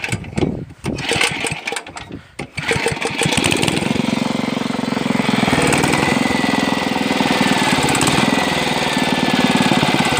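A small single-cylinder engine on a little plough-pulling cultivator is pulled and sputters through a few rough attempts, then catches and settles into a loud, steady close idle that keeps running to the end.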